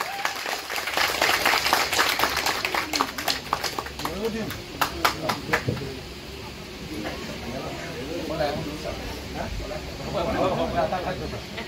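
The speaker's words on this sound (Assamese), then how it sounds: "হাত চাপৰি" Audience applause at an award and felicitation ceremony, a burst of clapping that fades and then swells again near the end, heard alongside speech from the stage.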